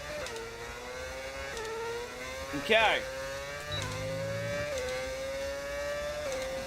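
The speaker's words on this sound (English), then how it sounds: "Plus the engine you can hear, that's also modded." A modded Benetton Formula 1 car engine in the F1 25 racing game drones steadily at high revs throughout, shifting pitch briefly, with someone speaking briefly over it.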